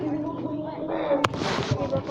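A small toy firecracker bursts outdoors with a single sharp crack and a brief hiss of noise after it, faint and close, among background chatter and voices.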